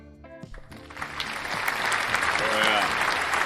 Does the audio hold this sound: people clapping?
yes